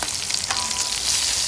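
Jack fish frying in a pan of hot oil for a Jamaican breakfast gives a close, bright, continuous sizzle and crackle with a few sharper pops, heard alone without talk.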